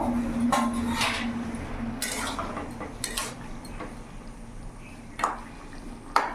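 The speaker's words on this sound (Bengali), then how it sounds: "এবার ঢাকা দিয়ে দেবো।" Metal lid clinks settle onto a cooking pot of papaya with prawns on a gas stove, several sharp clanks and taps scattered over a quiet simmering background.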